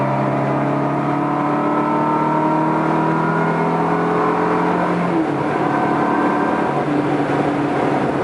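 Ferrari 360 Modena engine under acceleration: a steady, fairly close engine drone whose pitch climbs gradually, then dips around a gear change before rising again.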